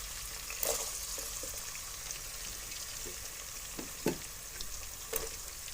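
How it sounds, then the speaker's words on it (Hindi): Onions, ginger and garlic frying in a pan for masoor dal, a steady hissing sizzle with a few sharper pops and crackles, heard close and without voices. "इसको थोड़ा सा भुनाई करेंगे।"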